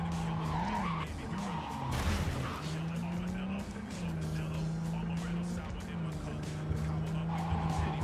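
A car drifts through Night City in Cyberpunk 2077, tires squealing in long wavering tones over a steady engine drone, with a voice talking over it.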